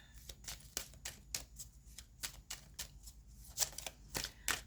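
Tarot cards are shuffled for a reading in a quick series of crisp riffling bursts, close and clear, with short pauses between them in a quiet room.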